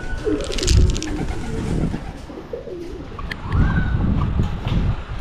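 Farm pigeons coo in low, throaty bursts close by, with soft fluttering and faint chirps between the calls, no talking.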